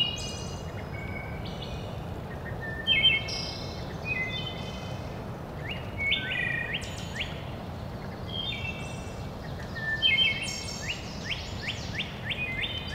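Several birds sing in an outdoor soundscape, with repeated high chirps and song phrases at a moderate distance over a steady background hiss and low rumble, with insects faintly present.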